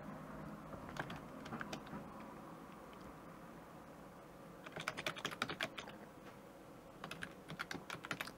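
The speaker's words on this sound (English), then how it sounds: "I'm going to type in" Text being typed on a computer keyboard, with soft clicks in bursts that grow denser and quicker toward the end over a faint room hiss.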